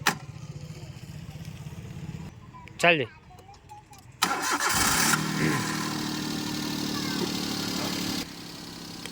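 The engine of a 2010 Maruti Suzuki Alto LXI cranks briefly, catches and settles into a steady idle nearby; a person speaks at times around it.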